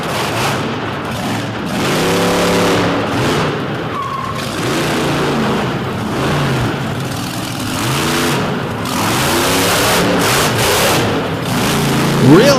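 Demolition derby cars rev hard and crash in an arena, with repeated engine surges, tire squeals and metallic impacts blending into a dense, loud roar and crowd noise.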